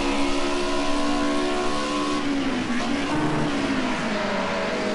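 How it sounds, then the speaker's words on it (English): A Group A touring race car at Zolder screams at high revs and bounces off the rev limiter, its loud, sustained engine note wavering and stuttering close by with no talk over it. "Blank fire clips the rev limiter."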